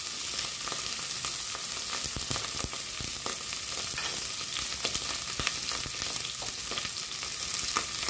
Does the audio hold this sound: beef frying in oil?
yes